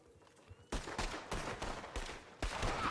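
Gunfire erupts in a Red Dead Online duel, a sudden loud shot followed by several more sharp blasts spaced through the rest of the moment, with a quiet lead-in before the first report.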